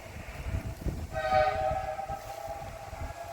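A train rumbles past with a brief horn blast in the middle, a low mechanical roar continuing underneath at moderate distance.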